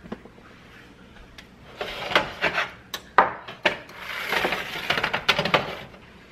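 A spoon scrapes and taps against a bowl while cooked vegetables are scooped onto a layer of cheese for a quiche: close, irregular rasping strokes and light knocks that grow busier midway, with no talk.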